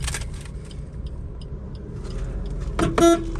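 A brief horn toot from a newly delivered car near the end, after a quiet stretch of faint traffic and street noise.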